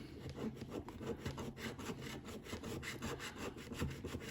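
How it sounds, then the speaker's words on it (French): A lottery scratch card being scratched to reveal letters, a quiet continuous rasping scrape with rapid repeated strokes, close to the microphone and with no voices. "Allez, on va gratter les lettres."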